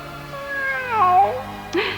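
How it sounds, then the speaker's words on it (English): A small cat meows in a drawn-out, rising and falling cry, loud and close, followed by a brief higher squeak at the end; no talking. "And what about that poor little cat, Dandelo?"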